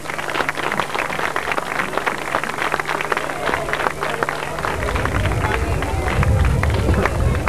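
Audience applause at a Canarian folk music performance of traditional polka and isa tunes in Tesegerague, a dense crowd clapping throughout with babble and shuffling underneath, swelling slightly toward the end.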